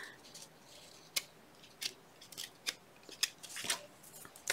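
Scissors trimming book page paper, a string of quiet, crisp snips at a steady, unhurried pace, heard close up with no one speaking.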